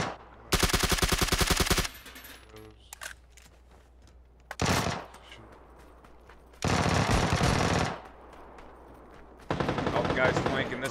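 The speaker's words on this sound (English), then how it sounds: "Gonna shoot him in the arm." Bursts of automatic gunfire from the video game PUBG, played on Stadia, come in three or four loud sustained volleys separated by quieter gaps holding a few single shots and faint game sounds.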